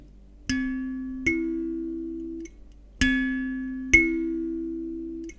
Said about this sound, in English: so I play on the lower register C